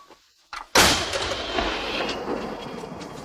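A 105 mm artillery gun fires once with a sharp, loud blast after a brief click, followed by a long rumbling boom and echo that rolls on for several seconds.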